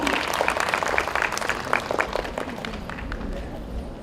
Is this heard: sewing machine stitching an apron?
no